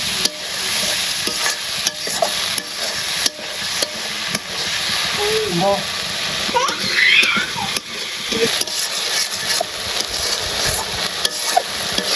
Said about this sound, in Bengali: আর এই যে পাশে হলো টমেটো সস মশলা কষিয়ে নেই ভালো করে